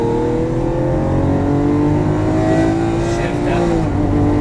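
A Lamborghini Aventador LP700-4 accelerates hard on throttle on a coned track course, its loud engine note climbing steadily in pitch from inside the car.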